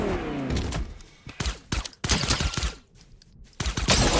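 Rapid bursts of gunfire in the video game Fortnite, sharp cracks and short automatic volleys spaced irregularly with quieter gaps, up close and alone without talk.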